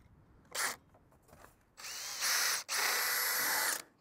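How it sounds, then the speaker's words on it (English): A power drill whirs in a short burst, then runs in two longer, steady high-pitched stretches as it bores holes during an Andersen 300 Series storm door installation, with a brief pause between. "So we gotta drill all those holes."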